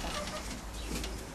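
Soft, low cooing from racing pigeons in a loft murmurs steadily at a moderate distance, with a faint rustle in the background and no talking.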